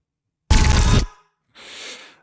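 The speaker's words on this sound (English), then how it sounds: "This is from a library. It's a metal whoosh" Metallic whoosh effect from a sound library: a loud, dense half-second sweep that cuts off abruptly, followed by a softer, airier second whoosh after a short gap.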